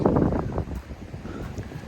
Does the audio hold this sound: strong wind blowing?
yes